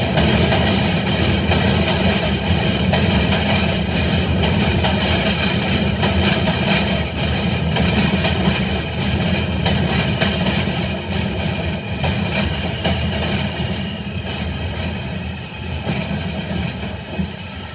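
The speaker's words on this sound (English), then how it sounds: "I think that was the E line when I was waiting for the E train" A New York MTA subway E train, an R160 car set, rumbles past loudly and steadily for the whole stretch, with a dense rail roar and a faint clickety-clack that eases slightly toward the end.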